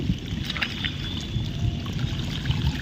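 Rainwater gushes and trickles out of a waterlogged field through a broken bund in Botad, a steady rushing flow throughout with no talk.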